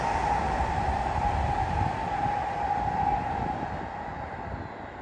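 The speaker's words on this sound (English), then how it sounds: "So that's the train going back to Gothenburg." Train heading back to Gothenburg, heard near a hiking trail between Alingsås and Floda: a steady, loud rolling rumble with a sustained tonal whine, holding level and easing slightly toward the end, with no talk.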